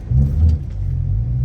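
A BMW E90 M3 with a V8 engine and six-speed gearbox rumbles close by, a brief deep rev swelling and easing off into a steady low idle-like drone.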